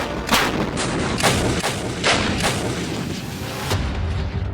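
A DRDO ATAGS towed artillery gun fires in a rapid series of loud, booming reports, about half a dozen sharp blasts with rolling echoes overlapping one another.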